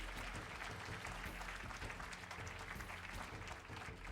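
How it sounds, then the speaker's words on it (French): An audience at an awards ceremony applauds five winners, steady dense clapping that fills the hall at an even level throughout, with no voices on top. "On les applaudit tous les 5."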